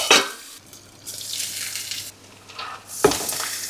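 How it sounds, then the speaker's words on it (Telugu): Green chilies fry in hot oil with a little turmeric, giving a steady close sizzle that swells and fades with brief stirring scrapes in the pan. "ముందు వేగనివ్వాలి, కొంచెం పసుపు వేసేసి మంచిగా ఇట్లా వేగనివ్వాలి."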